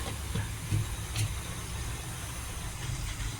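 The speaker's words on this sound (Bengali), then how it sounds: "মাছগুলো দিয়ে ফুটিয়ে নেব কিছুক্ষণ, যতক্ষণ আমার মাছের সুন্দর কালার না আসে" Bhetki fish curry simmers under a lid in a covered pan, a steady low hiss and rumble with a few soft bubbling pops, continuous and close.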